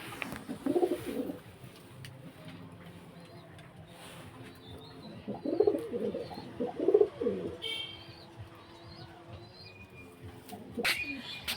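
Pigeons released in a netted loft cooing in soft, repeated low bursts at a close distance, with quiet background noise and a few faint chirps between the calls.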